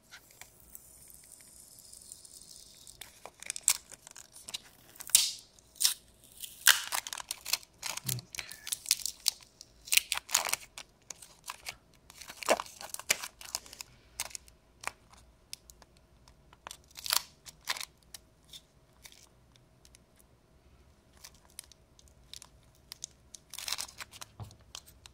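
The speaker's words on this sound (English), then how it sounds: "I'm just using my knife to get a grip on these." A knife prying at the plastic wrapping of a Game Boy Advance SP battery: close, intermittent crinkling, scraping and small crunching clicks in irregular clusters against near silence.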